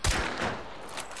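A single sharp gunshot in Hunt: Showdown opens the moment, followed by a fading rumble and faint ambient noise, fairly close and quiet overall.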